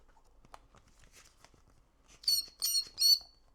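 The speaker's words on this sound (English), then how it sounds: "No, it squeaks. I do not like this squeak." A hand air pump inflating an RGB inflatable tube light squeaks three times in quick, loud, high-pitched bursts after a stretch of faint clicks and handling.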